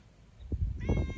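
An outdoor barn cat lets out a drawn-out, close meow with rustling and a few soft thumps around it.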